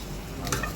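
Boiled, cooker-softened meat tipped into hot tempering oil for a chicken curry, giving a short burst of sizzling and frying hiss that swells midway through a brief moment, with no talk.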